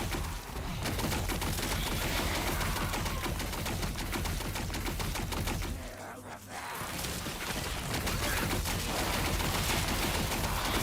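Rapid machine-gun-like spell casting from a Lich in Last Epoch, a dense, loud, continuous stream of fast clattering hits that briefly drops away near the middle before resuming.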